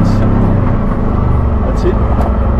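A car engine labors loudly and steadily while climbing a sand dune, its roar holding through a gear change with a dense low rumble that fills the whole stretch; a voice speaks over the engine.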